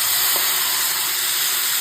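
Marinated chicken for a chicken burger fries in butter, giving a loud, steady, close hiss with a faint crackle throughout and no talk.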